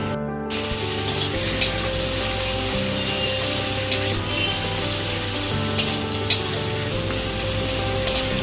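Taro greens cooked without garlic sizzle steadily in a frying pan, a constant hissing fry with occasional soft scraping strokes as the leaves are stirred, an electrical hum running beneath.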